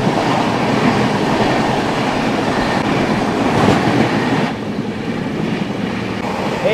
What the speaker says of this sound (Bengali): মুম্বাই থেকে আসা মুম্বাই মেল ঢুকে গেল।